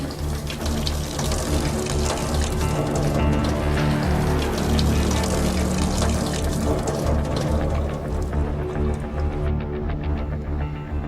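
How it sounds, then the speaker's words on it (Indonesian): Water gushing from an open household tap, a loud, steady, unbroken splashing rush that continues for the whole stretch, close by and alone without any voices. "Siapa yang buka keran?"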